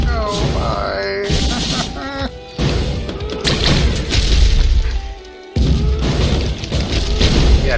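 Mortar shells burst in the video game Risk of Rain at maximum difficulty, booming and crashing in a dense, loud stretch of game sound while a person talks over it.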